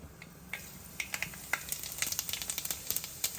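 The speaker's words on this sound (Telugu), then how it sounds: "ఆవాలు చిట్పట్టమంటున్నాయండి ఇంకా మనం జీలకర్ర వేసేసుకుందాం" Mustard seeds and cumin spluttering in hot oil: a quiet sizzle breaks into rapid, sharp popping crackles that grow denser and more regular, close and fairly loud, with no talking.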